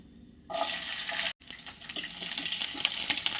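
Cumin seeds and chopped garlic hit hot oil with a sudden loud sizzle that drops out for an instant, then carries on as a bright, crackling hiss with scattered pops.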